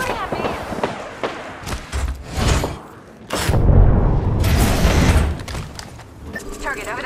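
Video game gunfire in a match on the Mirage map rattles in repeated bursts and heavy booming shots, loud and close, with voices calling out over the action.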